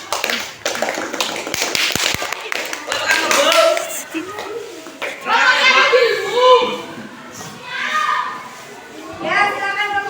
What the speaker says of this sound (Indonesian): Tepuk tangan untuk Bu Betty.